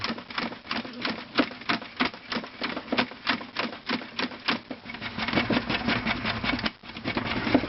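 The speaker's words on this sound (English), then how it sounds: "There's different types of salad spinners. I have another one that's a wind up." A wind-up salad spinner holding grapes gives a fast, steady run of rattling clicks, then settles into a continuous whirring spin, close and moderately loud.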